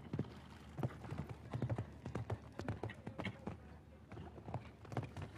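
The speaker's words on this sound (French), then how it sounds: "il y a un sacré rythme de galop avec It's Me" Hooves of an eventing horse galloping on the cross-country course at the Luhmühlen CCI4* competition, fast rhythmic drumming beats close to the mic in uneven clusters, quite faint overall with no talk.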